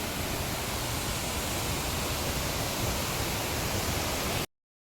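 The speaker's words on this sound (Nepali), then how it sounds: "माथिबाट झरना उर्लेर आएको छ" A waterfall pours down from above in a steady, dense, unbroken rush that fills the whole clip, then cuts off abruptly just before the end.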